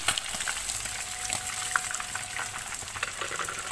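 Indian mackerel frying in hot oil, a steady, fairly quiet sizzle and crackle running continuously throughout with no talking.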